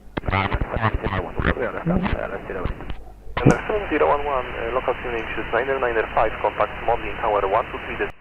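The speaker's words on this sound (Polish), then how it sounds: "No tu mieliśmy praktycznie nieczytelną transmisję." A distorted, crackly AM radio transmission from an aircraft, voices speaking in bursts, with a brief click and gap before the talk resumes, harsh and band-limited.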